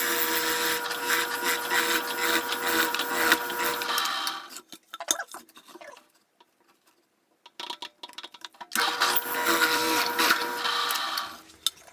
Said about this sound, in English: So I'll just drill that through.